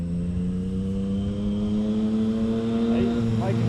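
A noisy motorcycle passing along a street in Hot Springs, its engine a loud, continuous rumble that rises slightly as it nears, with a voice talking over it.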